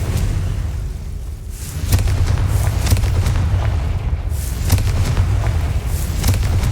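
Explosive spell blasts in Hogwarts Legacy: a series of booming bursts, sharp hits at uneven intervals over a steady rumbling background, close and loud, no talking.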